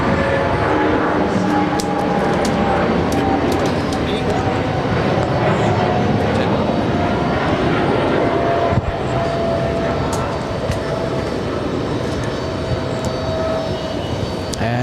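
A British Airways airliner, Speedbird 116, roars loudly and continuously as it departs JFK Airport bound for London Heathrow, a broad, steady jet rumble with talk faintly underneath.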